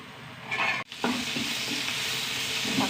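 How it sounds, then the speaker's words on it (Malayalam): Onions and tomatoes fry in a pan with a close, continuous sizzle and stirring scrapes, broken by a brief gap before the hiss resumes steady and bright. "തക്കാളിയൊക്കെ വെന്ത് വന്നു കേട്ടോ"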